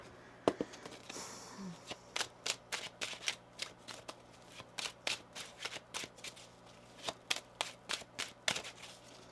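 Tarot cards are shuffled close up, a series of quick riffling bursts and soft slaps repeating irregularly against a quiet background.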